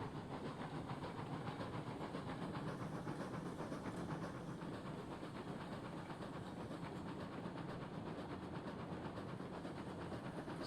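A train in the video game Railroads Online rolls along with a faint, steady mechanical hiss and rhythmic clatter, quiet and continuous throughout with no voices.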